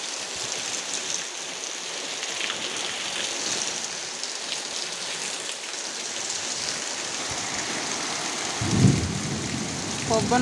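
A thunderstorm brings heavy rain and strong wind around a house, a steady roar of downpour with a low thunder rumble surging near the end.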